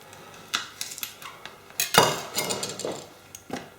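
A knife slices a whole bait fish in half on a cutting surface, giving several sharp clicks and taps with one heavier chop midway, close and fairly clear with no talking.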